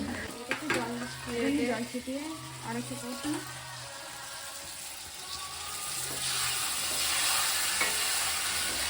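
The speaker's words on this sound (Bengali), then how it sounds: "তারপর আলু পটলটা দিয়ে এর মধ্যে একটু কিছুক্ষণ কষিয়ে নিয়ে তারপরে একটু গরম জল দিয়ে এটাকে সিদ্ধ হতে দিতে হবে" Potatoes and pointed gourd being sautéed in a fish curry gravy sizzle and get stirred in a pan, with a voice speaking over the first few seconds and a steadier frying hiss building near the end.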